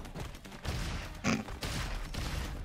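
Continuous bursts of weapon fire and explosive thuds in the first-person shooter Roboquest, rapid and dense, fairly faint and steady throughout, with no voices.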